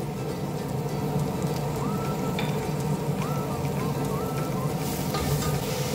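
Mushrooms sizzling in a pan with two tablespoons of butter and one tablespoon of oil with garlic, a steady close crackling hiss running evenly throughout with no break.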